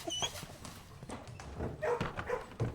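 Dogs in the video game Blue Prince bark and yip faintly amid soft clopping and shuffling sounds, with scattered short bursts over quiet background noise.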